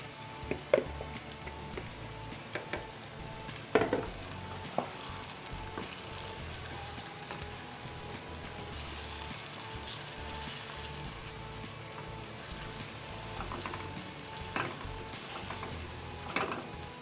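Marinated chicken in yogurt and spice masala fries in a karahi, a low continuous sizzle with scattered scraping and knocks of stirring, a couple of sharper clatters early on, fairly quiet and close.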